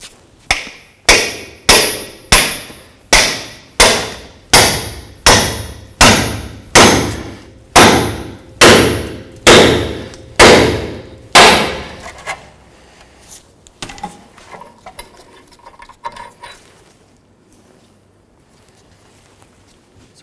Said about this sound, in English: I'm going to grab a pickle fork, go straight through here, and try to separate the two.